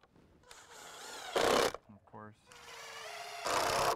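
A power driver sets 1.5-inch SD connector screws through an L bracket into a deck ledger board, with bursts of loud whirring and a ratcheting clatter between them, and a voice speaking over parts of it.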